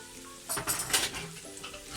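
Sliced onion dropped into hot ghee and vanaspati for ghee rice garnish, a brief clatter of pan and utensil followed by a soft, close sizzle.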